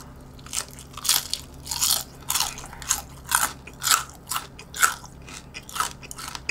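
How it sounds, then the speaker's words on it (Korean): Repeated loud crunchy bites into old-fashioned Korean-style fried chicken, close up, coming in a steady rhythm of about a dozen sharp crackling crunches with no talking. "바삭함이 없어지기 전에 일단 먹어야겠어."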